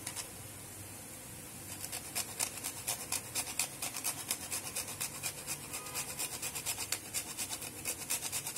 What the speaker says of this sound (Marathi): आता आपण त्याच्यामध्ये जायफळ किसून घालूया।